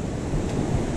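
Ocean surf on a beach washing water into a freshly dug hole, a brief, loud, close rush of water mixed with wind noise on the microphone.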